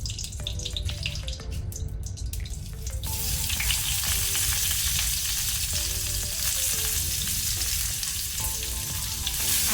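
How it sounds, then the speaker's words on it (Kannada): A large onion hits hot cooking oil with cloves on a low flame and sizzles loudly and continuously, with scattered light stirring knocks from the pan. "ಫ್ಲೇಮನ್ನು ಲೋ ಅಲ್ಲಿ ಇಟ್ಕೊಂಡು ಒಂದು ದೊಡ್ಡ ಸೈಜ್ ಈರುಳ್ಳಿ ಹಾಕೊಳ್ತೇನೆ."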